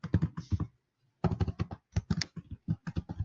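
Typing code on a computer keyboard during a front-end developer interview, with close, crisp clusters of rapid key taps, a short pause, then more quick bursts of typing.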